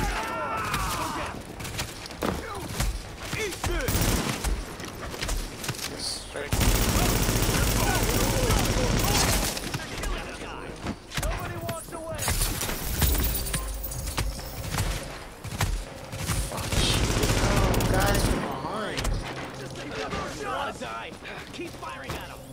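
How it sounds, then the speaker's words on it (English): Gunfire in the video game The Division comes in bursts of rapid automatic shots with loud sustained stretches, mixed with other game sounds while a voice shouts over parts of it. "Keep firing at him."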